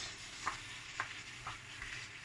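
Tomatoes go into a pan of peppers and onions that has been frying for about ten minutes, giving a faint steady sizzle with soft stirring scrapes about every half second.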